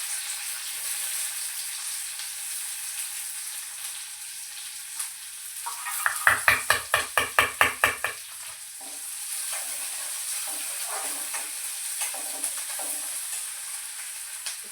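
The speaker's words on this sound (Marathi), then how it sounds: "जिरा मोहरी टाकले, मिरच्या टाकल्या," Cumin, mustard seeds, green chillies and curry leaves hit hot oil in a kadhai for rava upma, giving a loud steady sizzle with a burst of sharp popping crackles partway through, with no talking.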